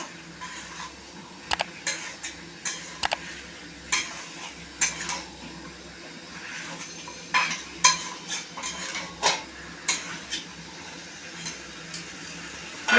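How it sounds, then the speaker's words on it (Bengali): Chicken kosa curry with potatoes being stirred in a pot, with repeated scraping and clinking strokes in an irregular rhythm over a low hum, close and moderately loud, and no talking. "এই যে নাড়াচাড়া করছি, তারপরে এখন ঢাকা দিয়ে দেবো"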